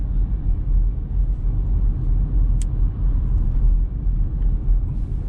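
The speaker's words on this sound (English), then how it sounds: "I can see there's a car approaching" A car approaching on a suburban road on a driving test route in Tolworth, heard as a steady, fairly loud low rumble of road and engine noise that continues throughout without talk.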